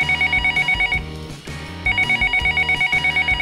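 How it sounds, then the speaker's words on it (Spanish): A toy telephone rings loudly in a children's pretend clinic play scene, with electronic ringing bursts that pause briefly and then resume in a steady, repeating pattern. "Voy a llamar por teléfono."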